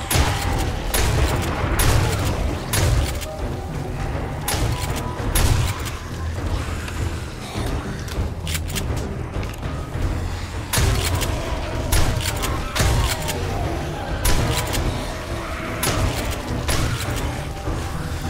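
Shotgun blasts from 7 Days To Die ring out as zombies are shot, with repeated heavy booms, some in quick clusters, over a dense, loud game background with rumbling noise.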